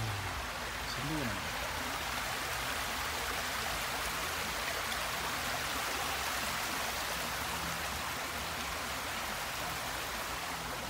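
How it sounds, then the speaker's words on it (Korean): Loud, rushing water flows steadily near a garden with climbing vines and flowering potato plants, a dense, unbroken wash of sound throughout, with a brief murmur of a voice near the start. "물소리가 엄청 크게."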